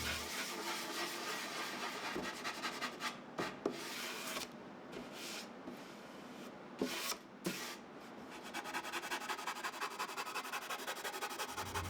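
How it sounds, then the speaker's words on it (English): Hand sanding softening the edges of a plywood mid-century modern shelf, rough rhythmic rubbing strokes close up, pausing briefly in the middle before resuming in quick repeated passes. "All the other edges get softened with a quick sanding."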